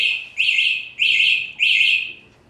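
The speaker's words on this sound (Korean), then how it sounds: "흔들림이나 이런 진동이 느껴지면은 한 번 이렇게 경보가 주고요" The anti-theft alarm of a Raywing Discovery Wild pet stroller sounds three loud, shrill electronic chirping bursts in an even rhythm, each lasting about half a second, with no talking.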